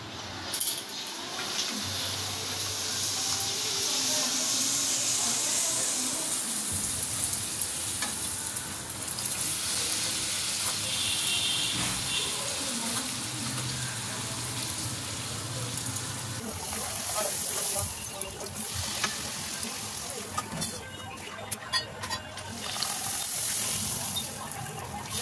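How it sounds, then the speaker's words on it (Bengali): Luchi puffing and frying in hot oil, a steady close sizzle and bubbling that runs the whole length with small clinks and stirring noises on top, no talking. "এবার লুচি কটা ভেজে নিলে আজকের মতন রান্না শেষ।"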